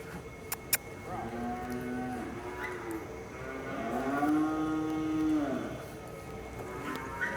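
Several drawn-out cattle moos, low and wavering, rising and falling one after another over steady outdoor background noise, with a couple of sharp clicks early on.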